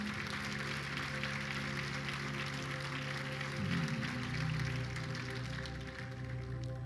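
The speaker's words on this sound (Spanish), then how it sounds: "Dale un aplauso al Señor" A church congregation applauds in a steady, moderate wash of clapping, with a low sustained hum from instruments or the room running beneath it.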